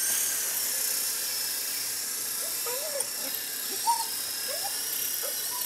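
A small coaxial RC helicopter flies outdoors in a light breeze, its high, steady electric whine and rotor buzz continuous throughout, with faint voice-like chirps briefly audible underneath.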